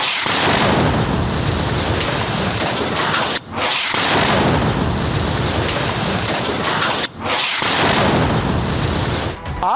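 A destructive strike brings down an entire building in a single blow: loud, sustained roaring rumble in three long waves split by brief near-silent breaks, with no voices.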